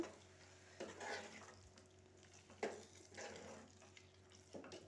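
A spoon stirs potato and tomato curry in a cooking pan, with soft scraping strokes recurring every second or two over a faint steady sizzle, close and fairly quiet.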